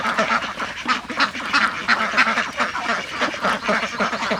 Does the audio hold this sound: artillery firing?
no